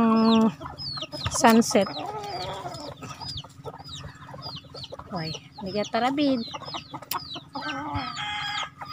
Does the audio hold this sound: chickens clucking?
yes